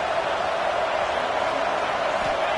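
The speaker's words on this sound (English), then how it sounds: "This crowd bringing the energy and noise early." Stadium crowd at a Penn State Nittany Lions football game, a steady, dense roar of many voices sustained at even loudness with no breaks.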